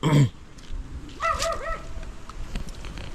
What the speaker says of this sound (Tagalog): Hinabol ka ng aso. Kapwa aso.